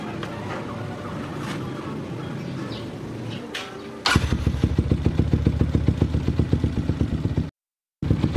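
A motorcycle fitted with an Uma Racing CDI starts up after some background noise, settling into a loud, close, steady idle with rapid even pulses before cutting out briefly.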